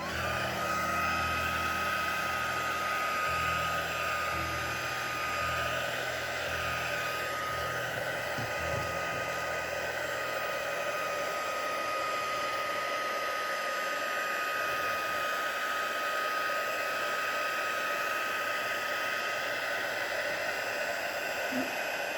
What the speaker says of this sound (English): We'll get the heat gun out and get this tape off